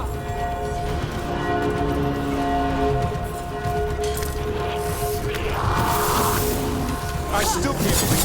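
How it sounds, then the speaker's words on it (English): A church bell rings from a bell tower in Dragon Age: The Veilguard, its sustained tones carrying through ambient game sound for the whole stretch. "You hear that? Must be the bell tower."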